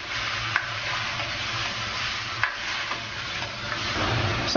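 Pig blood stew cooks in a wok over high heat, giving a steady bubbling sizzle marked by a few sharp scrapes and clinks of a utensil against the metal.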